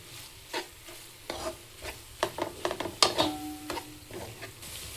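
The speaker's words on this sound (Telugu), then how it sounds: "దీన్నంతా ఆ మసాలా అంతా పట్టేటట్టు బాగా కలిపేసుకుందాం" Bottle gourd curry being stirred with masala in a pan, a spoon scraping and clattering in irregular bursts over a soft frying sizzle, close and fairly loud with no talk.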